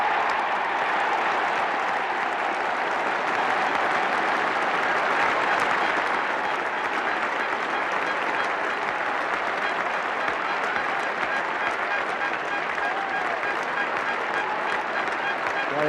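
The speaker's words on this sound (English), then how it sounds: "Sobers applauded by the England side" The England cricket side and the crowd applaud Gary Sobers' century in a long, steady wash of clapping from a large ground, heard at a distance, with a commentator's voice and crowd murmur underneath.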